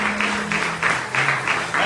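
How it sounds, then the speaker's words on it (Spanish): A church congregation clapping in a worship service, rhythmic applause in regular bursts under a sustained tone, with voices mixed in. "¿Cuántos le dan un aplauso fuerte al Señor en esta hora?"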